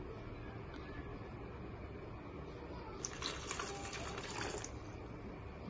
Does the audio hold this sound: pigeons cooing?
no